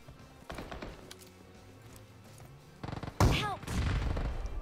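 Shotgun fire in PUBG Mobile around Georgopol: sparse thumps early, then a loud cluster of sharp blasts near the three-second mark followed by continued rapid gunfire, close and punchy.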